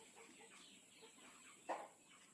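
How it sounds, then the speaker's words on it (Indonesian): A one-year-old village rooster (ayam kampung) gives a short, quiet cluck partway through, with faint low farmyard background around it. "ini jago kampung"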